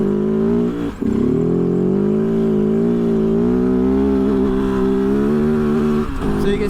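A Kove FSE 450R rally motorcycle engine labors at low revs in 3rd gear on sand, a loud, close, steady droning growl with a brief stumble early on.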